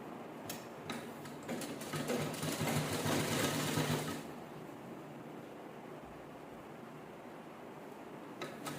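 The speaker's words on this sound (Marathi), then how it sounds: "ह्या साईडला शिलाई करून घेऊया" A sewing machine stitches a laptop cover in a fast, steady whirring run for about four seconds, close and clear, then stops and leaves a quiet room with faint ticks.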